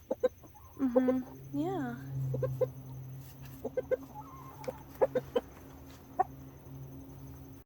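Backyard chickens, including good-looking roosters, cluck in short scattered bursts close by, with a person talking softly between the calls.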